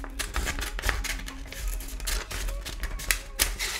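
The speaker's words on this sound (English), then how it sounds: "cut them. I have the scissors right here" Crisp, irregular snipping and clicking, close by, like scissors cutting through paper in several quick bursts, with faint rustling between cuts.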